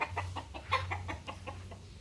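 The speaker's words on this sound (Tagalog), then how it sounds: "Ang dami niyang manok, oh." Fighting roosters and chickens kept for cockfighting derbies, clucking in a quick string of short, repeated calls close by, with a low steady hum underneath.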